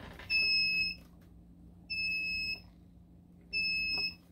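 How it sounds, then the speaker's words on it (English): A kids' junior-model metal detector emits three separate high, steady electronic beeps, each lasting about half a second to a second with short pauses between, heard close and clear over a quiet background hum. "And this is a metal detector, and it works."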